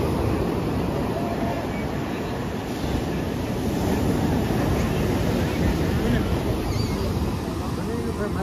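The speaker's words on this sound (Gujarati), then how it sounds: "મસ્ત મજાનું એ પાણી ઉછળે છે." Seawater surges against the shore as a continuous, loud wash of waves rolling in, with wind buffeting the microphone throughout and no clear break in the roar.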